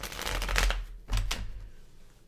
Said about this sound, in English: I'm trying not to be too loud with the shuffling.